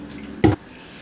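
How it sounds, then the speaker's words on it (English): A single short spritz of a spray bottle misting water onto hair, a quick hissy burst close by, then quiet. "I'm gonna spritz with a little bit of water."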